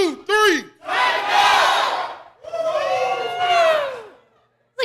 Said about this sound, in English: It's a good crowd here in Spring Hill.